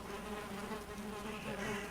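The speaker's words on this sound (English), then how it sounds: "Alright, so we'll check the bees. The bees are happy, so that's a good location for them." Steady, close insect buzzing of bees swarming around beehives in the video game Valheim, a continuous drone lasting the whole moment with no talk over it.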